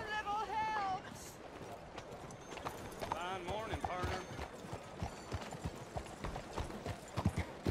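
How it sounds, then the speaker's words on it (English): Horse hooves clip-clop in the video game Red Dead Redemption 2, a run of rhythmic thuds close by with a brief whinny, while people talk over them. "I'm waiting for my damn horse."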